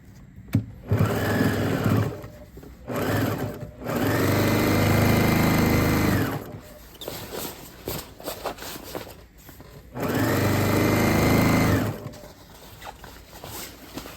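A sewing machine stitches outdoor chair cover fabric in two long runs of steady motor whir, each lasting a couple of seconds. Between the runs come short bursts, clicks and fabric handling noise.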